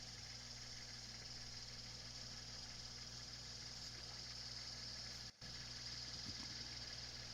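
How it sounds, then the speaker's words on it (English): A car engine runs steadily in the background, a faint continuous idling hum and low rumble with a constant hiss and no talking over it. "You can hear my car running in the background again."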